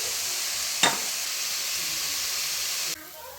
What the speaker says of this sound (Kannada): ಸೊ ಕ್ಯಾಪ್ಸಿಕಮ್ನ ಫ್ರೈ ಮಾಡ್ಕೊತಾ ಇದ್ದೀನಿ.